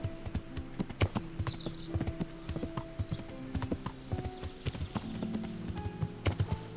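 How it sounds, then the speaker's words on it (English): In the video game Kingdom Come: Deliverance, steady clip-clopping of horse hooves at a walking-to-trotting pace, fairly close, with a brief whinny-like tone and light ambient background. "All-terrain horse."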